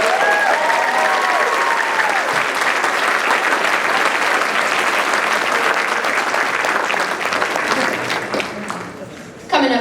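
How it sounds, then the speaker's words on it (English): Loud, dense applause and cheering from a school concert audience, sustained for about nine seconds before quickly dying away, with crowd voices mixed in. "get one more round of applause for our awesome freshmen?"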